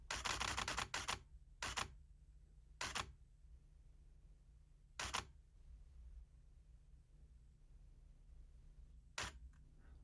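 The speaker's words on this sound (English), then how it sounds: "And now when I press and hold the shutter release button" Single-lens reflex camera firing a bracketed exposure sequence for a solar eclipse, a quick burst of several crisp shutter clacks followed by isolated single shutter snaps spaced a second or more apart, close and clear in a quiet room.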